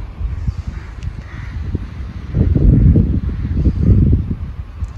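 Wind at Guliakhali sea beach in Sitakunda, heard as low gusty buffeting against the microphone that grows stronger and rougher in the second half, with no talking.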